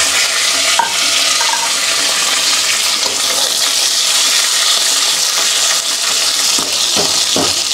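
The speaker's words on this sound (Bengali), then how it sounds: "ওইটা এখন আমরা আরও কড়কড়া করে ভাজবো এর সাথে" Loud, close hissing sizzle of a fish head frying crisp in hot oil, continuous and bright, with a few clinks and scrapes of a utensil partway through.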